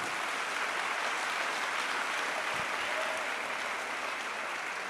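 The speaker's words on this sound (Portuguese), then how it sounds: "pode aplaudir o Senhor" Church congregation applauding during a sermon, a broad, even wash of clapping that holds steady for several seconds with no talk over it.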